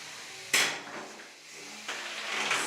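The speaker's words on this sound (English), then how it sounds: "Slicing into those tires." A combat robot's weapon strikes an opponent's tires during an MRCA finals match, one sharp loud impact followed by a second slicing hit over arena noise.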